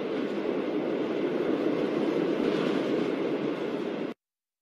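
Steady interior noise inside a moving train, a continuous low rumble and hum at moderate level with no voices, cutting off abruptly near the end.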